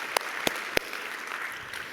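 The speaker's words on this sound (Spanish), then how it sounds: "dale un fuerte aplauso al Señor, si se lo vas a dar, dáselo fuerte." A church congregation at a Spanish-language worship service applauds, with three sharp, distinct claps cutting through a steady wash of crowd noise and background hiss before the sound settles.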